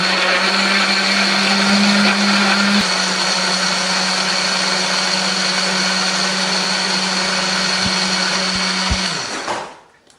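A kitchen blender grinds red chili, shallots, garlic, ginger and a little water, a loud steady whirring drone that holds for about nine seconds before cutting off and spinning down.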